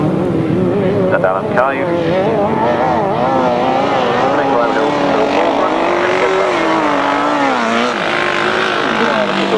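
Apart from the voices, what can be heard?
motorcycles racing on a grasstrack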